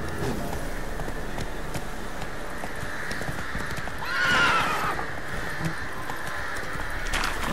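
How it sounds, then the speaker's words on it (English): Horse in The Witcher 3 video game whinnies loudly partway through, with clip-clopping hooves running steadily throughout at moderate distance. "That's it, Roach. Whoa there, Roach."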